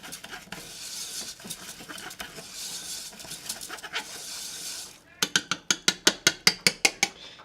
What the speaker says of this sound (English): You can start to hear it fry a little bit.